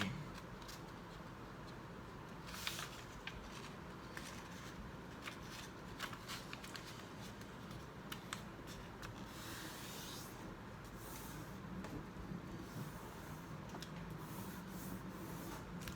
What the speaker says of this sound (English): First, you're going to fold the paper in half diagonally.